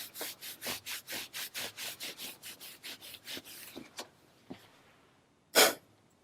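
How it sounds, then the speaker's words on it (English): Hands briskly rubbing the calves during Nejang Tibetan yoga, a fast steady series of about twenty close, dry friction strokes that slow and fade out, followed by a single louder burst. "Same for the calves. Inhale. Rub. All the parts, warming and rubbing."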